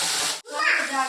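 A splash of water hits hot spice masala of turmeric, garam masala, green chillies, red chilli powder, asafoetida and coriander-cumin powder. It sets off a loud, steady steam hiss, broken by one brief pause before the sizzle resumes.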